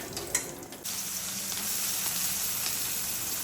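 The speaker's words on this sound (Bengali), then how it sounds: "পেঁয়াজ ভাজা চলছে" Onions frying in a pan for a red sauce pasta, a steady soft sizzle that fills the whole stretch with no talk, after a brief clatter near the start.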